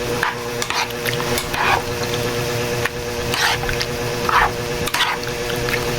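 Sinuglaw with calamansi juice being stirred in a pan: wet, squelchy mixing with repeated scrapes and soft liquid slaps, close and steady for several seconds, no voices.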